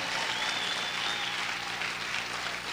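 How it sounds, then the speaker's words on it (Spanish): A church congregation claps together in sustained, dense applause that stays loud and even throughout, with no pause. "Vamos a aplaudir fuerte al Señor."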